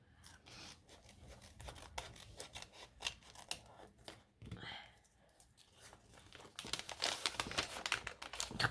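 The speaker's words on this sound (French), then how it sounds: "je peux couper un bout du papier" Scissors snip through wrapping paper and sticky tape while a gift is unwrapped, with repeated close cutting clicks, crinkling and tearing that build to louder rustling at the end, as someone talks in French.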